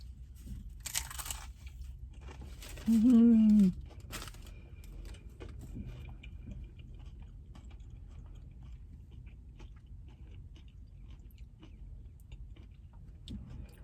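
A brief loud crunching burst of chewing crunchy tacos, a few bites close up, followed by quiet room noise.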